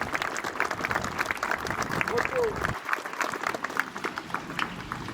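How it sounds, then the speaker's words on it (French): Applause from the crowd at a 1918 Armistice commemoration in Bitche, France, honouring local primary school pupils; steady dense clapping fills the clip, with a voice speaking over it. "on peut encore les applaudir bien fort"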